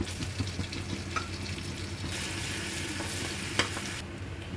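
Chopped garlic frying in butter in a kadai, a continuous close sizzle with occasional stirring scrapes and a sharp clack near the end.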